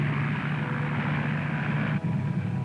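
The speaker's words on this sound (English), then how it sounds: "The float planes took to the sea." Propeller float planes racing in an air race, their engines forming a steady, continuous droning roar that dips briefly near the end.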